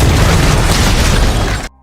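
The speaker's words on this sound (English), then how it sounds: "he gets blown up in a flower explosion" A loud, sustained blast-like roar with heavy low rumble and broadband crackle, holding steady for nearly two seconds before cutting off abruptly.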